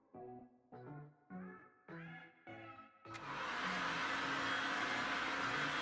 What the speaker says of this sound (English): go back over my charms to pop the remaining air bubbles with my heat gun